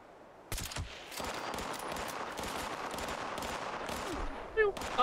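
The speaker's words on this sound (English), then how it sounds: "they're shooting me through the rock" Gunfire in a video game shooter: a sharp close burst of shots, then a sustained dense rattle of rapid fire throughout, with a couple of louder shots near the end.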